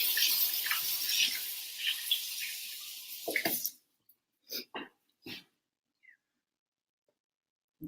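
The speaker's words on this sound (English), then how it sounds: "let me rinse my hands a little bit" Hands rinsed under a running kitchen tap, a steady splashing stream for a few seconds that stops, followed by scattered drips and small handling sounds, close by.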